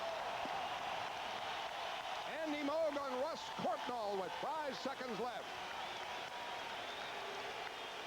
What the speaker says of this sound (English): And the applause for the Bruins